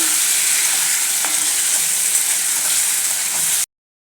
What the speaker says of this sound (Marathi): हे मटण मी व्यवस्थित मसाल्यामध्ये परतून घेतलं आहे म्हणजे आपल्या तिखट हळदमध्ये परतून घेतलं आहे